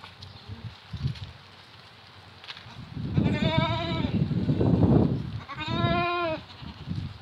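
Young goats, recently bought and fed reeds and bran, bleat twice in clear wavering cries close by, the second shorter, with soft rustling and shuffling between the calls.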